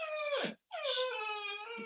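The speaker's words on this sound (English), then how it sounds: "I have a whiny dog, sorry." A dog close to the microphone gives two drawn-out, high-pitched whining cries split by a brief pause. It sounds alone, with no talk over it.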